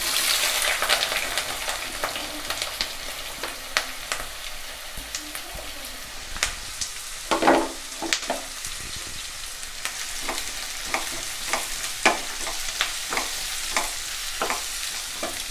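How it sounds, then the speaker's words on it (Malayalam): Sliced onions sautéing in hot coconut oil for a tomato chutney, a steady close sizzle broken by frequent sharp scraping strokes of a spoon against the pan. "ഇനി നമുക്ക് സവോള ഇട്ടിട്ട് ഒന്ന് വഴറ്റിയെടുക്കാം."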